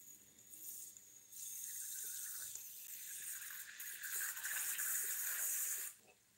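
Tap water runs into a pet's water dish, a close, steady hissing stream that rises in intensity as the dish fills, then cuts off abruptly.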